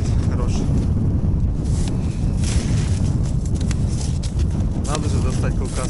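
Wind blows hard into the microphone on a winter fishing trip on the ice, a loud unbroken low roar and buffeting that fills the whole stretch, with a voice partly buried underneath.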